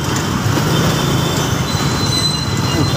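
Heavy traffic rumbles past on a Manila road at night as trucks go by. The roar is loud, broadband and sustained, with no clear voices above it.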